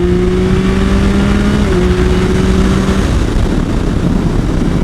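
A 2023 Yamaha MT-09 SP motorcycle engine revs hard and loud right after dropping two gears, a steady close roar with a rising tone that shifts pitch midway and then settles.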